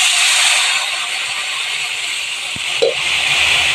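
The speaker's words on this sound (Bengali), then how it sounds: "নেড়ে ছেড়ে দিয়ে গরম জলটা দেবো।" Hot water poured into a pan of sizzling spices, giving a loud, close, steady steamy hiss with a brief clatter near the end and no talking.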